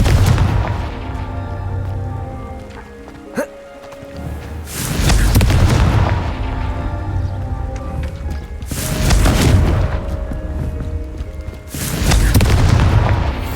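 Confringo fire spell explosions from the Hogwarts Legacy video game burst out in three loud, booming blasts, each rumbling for a second or two, with a sharp crack and low background rumble between them.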